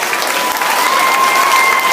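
Loud, dense applause from an audience at a student leadership inauguration, honouring the alternates: a steady roar of many hands clapping close by for two seconds, with a faint tone running underneath and no talking.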